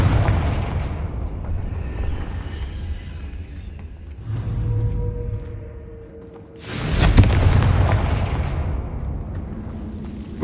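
Confringo fire spell explodes in the Hogwarts Legacy video game: an opening rumble fades, then a sudden loud burst erupts and rolls into a long booming, crackling decay, with faint speech in the background.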